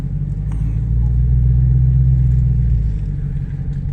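A Ford F-150 Raptor idles and creeps through a parking lot, its engine giving a steady low rumble that swells slightly midway, close and continuous.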